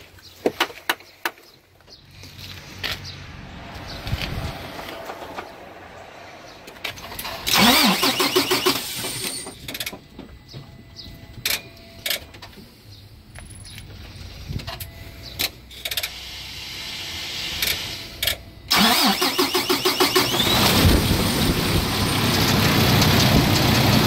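A Paccar MX13 truck engine cranks and catches, then runs with a loud, steady diesel rumble, revving up in bursts near the end, recorded close by with no talk.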